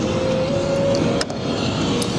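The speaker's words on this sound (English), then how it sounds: "I really like this 2-in-1 Pro Pipe. It sounds really good." A Harley-Davidson Ultra Limited FLHTK with about 10,000 miles and a 2-in-1 Pro Pipe exhaust idles or runs close by. The engine drone is steady and loud, with a faint whine and a brief dip partway through.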